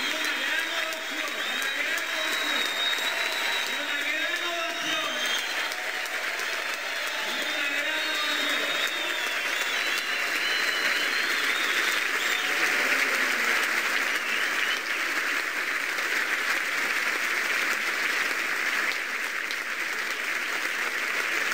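A large audience at a comedy show in Santo Domingo bursts into a long, sustained ovation. Dense clapping holds steady for over twenty seconds, with a voice audible over it early on.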